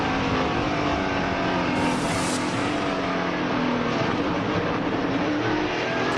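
NASCAR Featherlite Southwest stock cars roar together on a restart in a 2002 race, a loud dense engine drone with rising revs and cars sweeping past, no talk over it.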